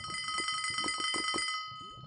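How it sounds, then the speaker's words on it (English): A lava time bell rings in a modded Minecraft game, a bright, rapidly repeating ringing that holds for about a second and a half and then fades, with soft chatter underneath. "That's the lava time bell."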